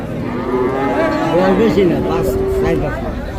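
A young Friesian-cross calf at a rural cattle market lets out a loud, drawn-out moo lasting a few seconds, set against a crowd murmuring and people talking nearby.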